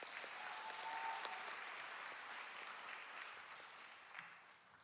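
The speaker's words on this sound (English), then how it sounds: "More applause for Simran and Medha." An audience claps for two dancers after a classical dance performance, a steady, fairly distant wash of applause that slowly tapers off over several seconds.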